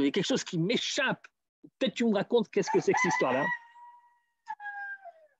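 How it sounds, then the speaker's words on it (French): A neighbour's rooster crows in the background, with a drawn-out call after someone speaks, then a shorter crow near the end. "Vous entendez le coq là?"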